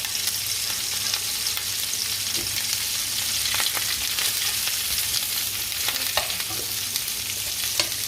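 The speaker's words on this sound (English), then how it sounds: "I'm going to be dropping some asparagus in there" Asparagus fries in a pan beside garlic-seared steak, a dense, continuous close sizzle with small crackles and pops throughout.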